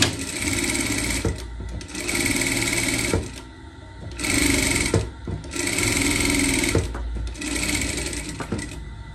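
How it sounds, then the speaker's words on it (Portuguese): Sewing machine running a gathering seam through fabric in several sustained bursts of rapid whirring stitching, separated by short pauses, close and clear with no talk. "Vamos passar uma costura aqui pra gente franzir"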